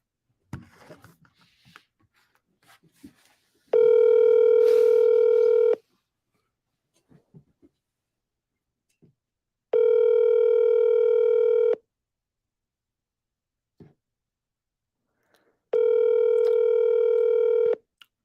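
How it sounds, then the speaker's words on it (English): Three evenly spaced ringback tones of a phone call sound loud and alone, each lasting about two seconds with quiet gaps between, after a few soft taps at the start. "Let's call him."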